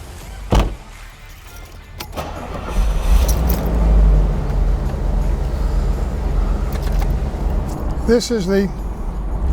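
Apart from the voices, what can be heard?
1987 Bentley Continental engine running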